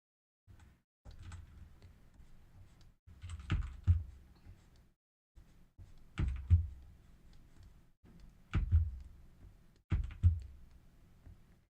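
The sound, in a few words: computer keyboard banging when pressing Ctrl+Z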